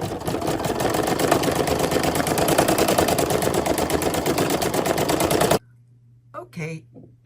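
A computerized embroidery machine sews a tack-down stitch in a fast, even, mechanical chatter that runs loud and close for about five seconds, then stops abruptly. A voice talks briefly afterward.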